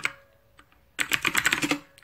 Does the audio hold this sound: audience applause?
no